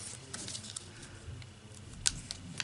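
A sheet of paper being folded and creased, soft rustling with a few sharp crisp snaps and presses, quiet and close with no talking.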